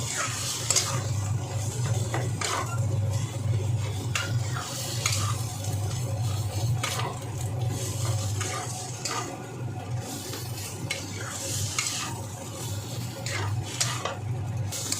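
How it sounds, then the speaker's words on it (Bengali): Boiled potatoes being stirred in a pan during home cooking of a cauliflower paratha filling, a steady scraping and clinking of the utensil against the pan over a low continuous hum, close and moderately loud. "আলুটা দিয়ে এরকম কিছুক্ষণ নেড়ে চেড়ে নিও।"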